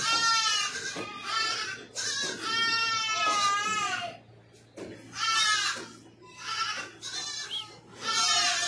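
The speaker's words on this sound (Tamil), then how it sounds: "அதுக்கப்புறம் ஆட்டுக்குட்டி இருக்கு." Young goat kid on a farm bleating repeatedly in loud, close, wavering cries, several calls separated by short pauses with a steady low hum underneath.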